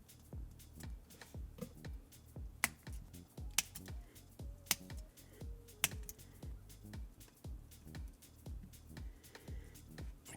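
A plastic Gundam model kit part is trimmed with a hobby tool, a string of quiet, close, crisp snips and scrapes in an uneven rhythm, no talk.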